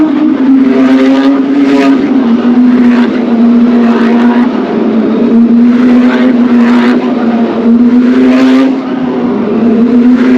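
Race cars roar around a Thai street racing circuit at Bang Saen beach, a loud, sustained engine drone with a steady low pitch and repeated surges of revving, continuous and close throughout.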